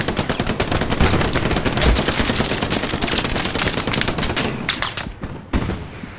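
Gunfire in the video game Hell Let Loose: dense, loud automatic fire rattles almost nonstop, with a few heavier single cracks as it thins near the end.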